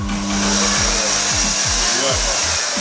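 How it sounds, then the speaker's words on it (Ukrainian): A steady, loud blowing whir of a hair dryer used for drying service dogs at a National Guard canine center runs throughout, with a low droning hum and a few shifting tones underneath. "фен для сушки службових собак"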